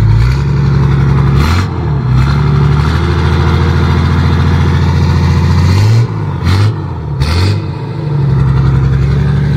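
A Nissan Patrol TD42 turbo diesel fitted with a full exhaust idles loudly up close, then revs in a few short, deep blips before settling back to a steady rumble.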